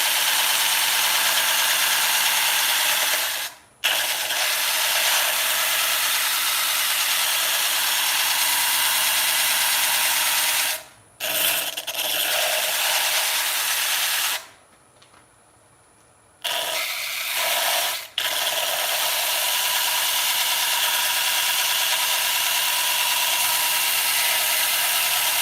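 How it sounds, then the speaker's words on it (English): A sanding disc grinds continuously at high speed, loud and close, with a few short breaks where it stops before starting up again. "That's what's so great about this sanding disc, is you can do work quickly."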